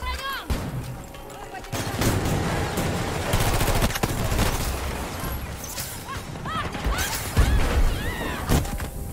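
Dense bursts of automatic and single-shot gunfire with explosions in the Battlefield 2042 video game, rapid fusillades and booms layered over chaotic battle noise throughout, with players talking over the action.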